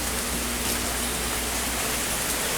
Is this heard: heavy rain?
yes